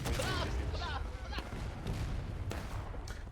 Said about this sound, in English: these CSA gunners are really just shooting right into the melee